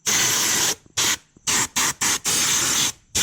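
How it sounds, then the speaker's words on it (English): Compressed air blasts dirt and debris out of a Volkswagen MK6 Golf R engine bay, in loud, hissing bursts of varying length separated by short silent gaps, close up and without speech. "Definitely a good idea to spray out all that junk in there, all that dirt and debris, with some compressed air if you have any."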